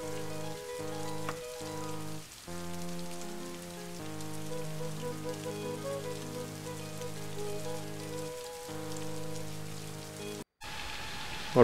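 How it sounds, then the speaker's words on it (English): Rain from the video game Daggerfall Unity falls as a steady, even patter under a looping musical tone, continuous and moderate, with a brief cut near the end. "let us rest listening to the sound of rain against the backdrop"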